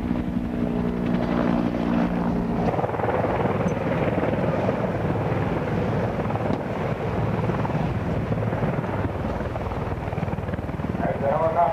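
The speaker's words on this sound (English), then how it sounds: "As the helicopter drops to 105" Steady, loud helicopter rotor and engine drone throughout, close by, with a continuous roar and no pauses.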